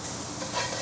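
Garlic and red onions sizzle in hot oil in a pan on a Kamado Joe Classic II grill, with a steady close crackle and stirring scrapes.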